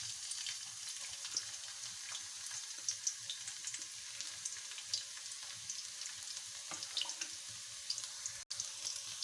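Finely chopped garlic frying in about half a cup of hot oil for a lobia (bean) salan tarka, a steady bright sizzle and crackle running unbroken and fairly close, with no talk over it.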